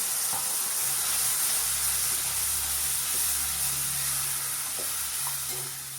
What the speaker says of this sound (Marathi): वाटण छान दोन मिनिटं असंच परतून घ्यायचंय आहे